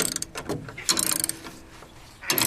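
Ratchet tie-down cranked tight on trailer wall framing, giving short bursts of clicking mechanical ratcheting separated by brief pauses, fairly close and loud, with no talking.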